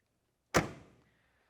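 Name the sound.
1968 Chevrolet Chevelle driver's door closing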